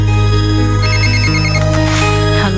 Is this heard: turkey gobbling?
no